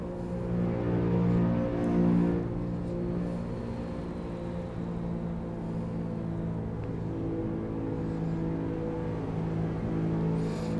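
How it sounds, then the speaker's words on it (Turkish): Honda Civic FB7 engine idling steadily with light throttle blips, a smooth continuous hum with gentle rises in pitch, close and alone with no talk. "Biraz şöyle gaza hafif hafif dokunuyorum."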